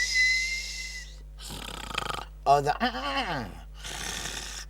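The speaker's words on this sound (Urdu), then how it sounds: "وہ تو بیگم خراٹے لے رہی ہیں" A comedic snoring sound effect of a wife asleep plays in rough, rasping bursts with a wheezing inhale, mixed with a voice talking over parts of it.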